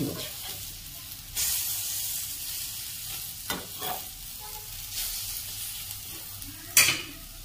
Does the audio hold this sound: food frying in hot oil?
yes